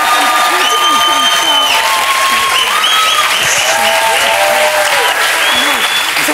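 Broad, continuous clapping from a studio audience on a TV talk show fills the whole stretch, with gliding whistle-like or vocal tones sounding above the steady wash.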